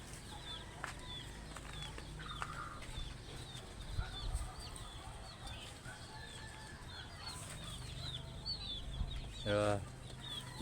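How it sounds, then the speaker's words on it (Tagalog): Chickens cluck and chatter softly around the area, with scattered calls and a brief flap of wings over low background noise. "Dira akong mga manok."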